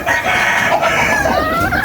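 A pet chicken clucks and crows loudly and close by, a continuous burst of fowl vocalizing with no talk over it.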